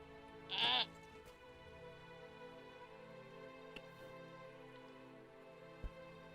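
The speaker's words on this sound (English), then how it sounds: "Look at this goat. Look, he's so fancy." A single short goat bleat rings out in the Lord of the Rings Online video game over a quiet, steady, rain-like background, with a few faint clicks after it.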